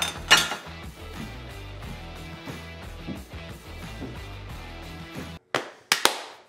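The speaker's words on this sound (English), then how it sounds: "I gotta grab my spatula" Metal utensils clatter and clank in a kitchen as a spatula is grabbed, a steady run of clinks ending in a few sharp, loud knocks after a brief pause.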